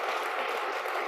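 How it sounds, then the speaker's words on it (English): A panel audience at a forum on Christian nationalism and democracy claps briefly. The applause is a soft, even wash of noise lasting about a second. "we can do a round of applause"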